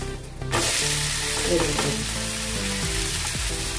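Jowar flour and semolina dosa sizzles loudly in oil in a pan, a steady close frying hiss that swells after a quiet start and runs on without a break.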